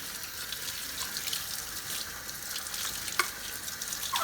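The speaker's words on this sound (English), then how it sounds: "rinse it off." Tap water splashes and runs over the lens of a Hoover Junior Dirtsearcher vacuum cleaner during a rinse, a steady close hiss with small spattering bursts and no talk.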